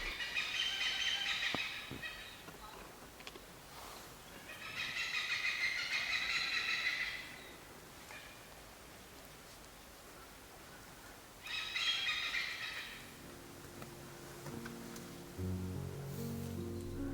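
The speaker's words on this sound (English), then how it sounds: "The chirping noises you hear are from the hornbills." Great hornbill and Malabar pied hornbill call in the Dhikala zone of Jim Corbett Tiger Reserve while feeding on berries, giving three separate bursts of chirping over a quiet forest background.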